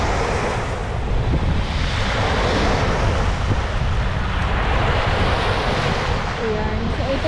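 Strong ocean surf rolls continuously onto a beach shoreline, a dense, steady roar of breaking waves with heavy wind buffeting the microphone throughout.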